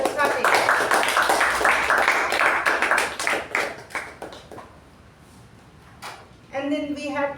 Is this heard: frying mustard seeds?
no